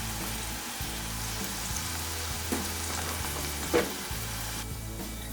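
Kakiage tempura of onion, burdock and carrot frying in hot oil makes a loud, continuous bubbling sizzle, with a few brief clicks and one sharper knock partway through, heard close up with no talk.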